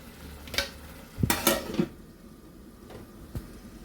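Gongura leaves are stirred into chicken cooking in a pan, giving a few short scraping, clinking strokes of a spoon against the pan over a faint sizzle. Nearby and brief, with no voices.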